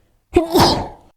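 A single sneeze, sharp and close, with a quick intake then a loud burst that trails off.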